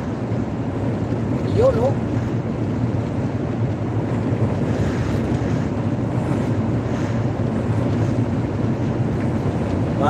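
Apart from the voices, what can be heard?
strong wind blowing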